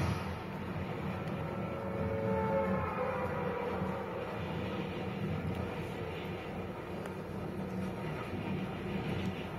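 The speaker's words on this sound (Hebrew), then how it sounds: "עובר פה רכבת" A train rumbles past as a steady, low, fairly distant roar that holds evenly throughout, with no speech.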